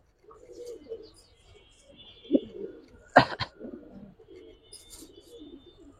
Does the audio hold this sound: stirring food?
no